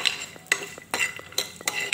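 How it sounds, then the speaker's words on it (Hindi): Almonds and cashews frying in a pan for desi urad dal pinni, with a utensil stirring and scraping in sharp metallic clinks at an uneven rhythm over a soft, steady background hiss, close and fairly loud, no talking. "उसी ही बर्तन में अपने बादाम और अपना काजू डाल के उसको भी अच्छे से फ्राई कर लेंगे।"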